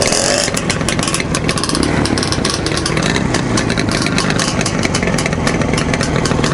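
Motorcycle engine running loud and close, a steady rough idle with pulsing throttle blips, set in a comparison between an IZh and an Irbis bike.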